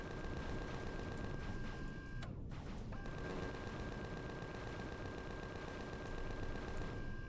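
Gunfire from a turret in the space survival game Empyrion, a continuous, fairly quiet rattle of rapid shots with a brief dip partway through, behind a low game ambience.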